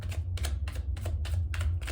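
Tarot cards are shuffled by hand in a quick, steady run of about eight crisp riffling taps over a low background hum.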